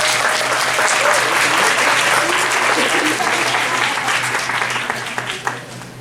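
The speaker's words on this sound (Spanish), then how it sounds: "Un aplauso para el maestro" Audience at a lecture on strategic therapies applauds a speaker with dense, sustained clapping that tapers off near the end, over a low steady hum.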